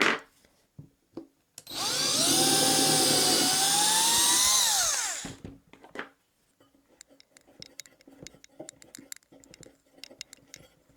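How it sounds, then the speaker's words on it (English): A power drill pre-drills a hole in scrap wood, with a loud, close whine lasting about three and a half seconds that rises and falls slightly in pitch. Scattered knocks and handling clatter from the wood come before and after. "I'm just going to pre-drill a hole for my handle."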